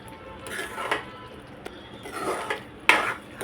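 A spoon scrapes and clinks gently against a metal pan while a milky sheera mixture of semolina with tulsi leaves is stirred, soft irregular strokes with a few sharper taps.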